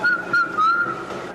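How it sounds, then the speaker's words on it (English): A person whistles a tune in a whistling contest, producing clear, fairly loud phrases of sustained pure notes separated by short breaths, with faint room noise in between. "it's not so easy to whistle with a bunch of people looking at you"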